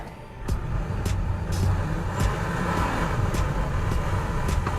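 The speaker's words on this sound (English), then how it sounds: "Foot to the floor, I'm completely full throttle. Now I'm completely stuck." A 2023 Toyota Corolla AWD engine runs at full throttle while stuck, a steady loud drone with a faint periodic clicking beat over it.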